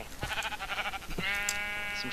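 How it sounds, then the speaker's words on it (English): Sheep in a blocky survival video game bleat in a short run of loud, harmonic cries, one after another and close up, with no talk over them. "Some sheep in your hole now."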